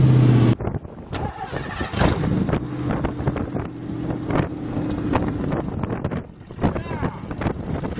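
A rough 1986 Mercury Grand Marquis engine, burning oil, rumbles loudly and unevenly close by on its first start in five years, with wind buffeting and occasional voices.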